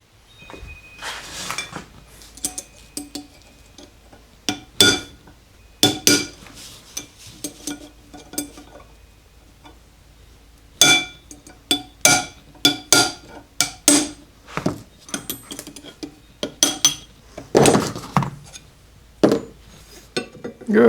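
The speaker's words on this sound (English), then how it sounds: "now I got to knock this sleeve off of there" Hammer blows knocking a metal sleeve off a shaft, part of rebuilding a 1918 Jas. Clark Jr. Electric Co. friction drive drill press; sharp metallic strikes come in irregular bursts of several hits, close and loud, with quieter pauses between.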